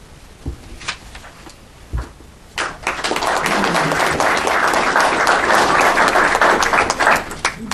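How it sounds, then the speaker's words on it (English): Applause from a seated audience at a public policy panel, starting with a few scattered claps and swelling into steady, dense clapping that fills the room and carries on to the end. "Always nice to start to applause."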